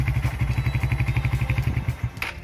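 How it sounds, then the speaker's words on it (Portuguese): A kick-started motorcycle engine runs with a rapid, even chugging pulse close by, then falters and drops away near the end. "Você vem aqui e dá uma alavanquinha aqui, ó. A moto vai funcionar."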